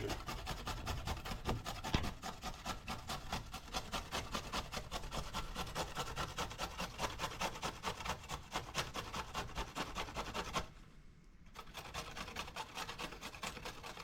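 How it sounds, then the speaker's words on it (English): Fresh ginger rubbed against a kitchen grater while preparing a spicy Indian cake, a steady run of close rasping strokes that pauses briefly near the end, with no talk. "So now we get the grater, and we're going to grate the ginger."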